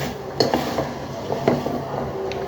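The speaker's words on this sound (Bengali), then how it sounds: "এখন আমি ডাকনা সরিয়ে নেড়ে দিব" Pot lid lifted and dried fish with water spinach stirred in an oil-free pan, giving a few close clinks and scrapes of a utensil against the pot over a low background, no talking.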